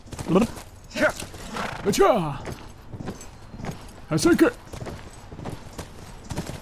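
In the video game The Last of Us Remastered, horse hooves clip-clop at a steady pace beneath a person talking, with occasional louder vocal bursts over the hoofbeats.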